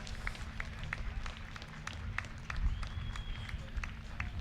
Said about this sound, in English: Guys, can we hear a round of applause for Denny Devine, please?